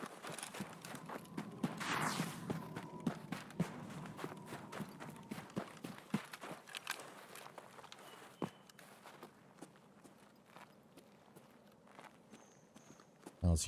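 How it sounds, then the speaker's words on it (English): A player's own footsteps in a shooter video game, soft repeated steps moving at an uneven pace, fairly quiet, with a few sharper clicks and thuds scattered through. "I think it was my own footsteps."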